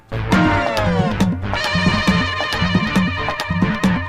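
A telephone ringtone plays loudly and continuously, a repeating melodic electronic pattern with a steady pulsing rhythm in an indoor household scene.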